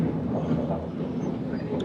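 A train rumbles steadily along the rails around a curve, heard from inside the carriage, with a constant low roar and faint rattling.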